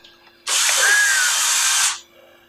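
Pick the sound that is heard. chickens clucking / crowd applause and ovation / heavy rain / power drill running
power drill running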